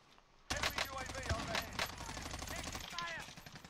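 Rapid automatic gunfire crackles in a Warzone match, sudden bursts of close shots that keep going, with a voice talking over the firing.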